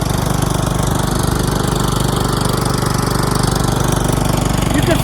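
Rebuilt Kohler Command engine on a John Deere LT160 lawn tractor running steadily close by, a constant loud mechanical drone with rapid even firing pulses throughout, no talk.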